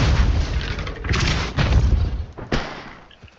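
Depulso repelling spell cast in the Hogwarts Legacy video game, heard as a series of heavy booming thuds with sharp impacts, loud and close, with no talking.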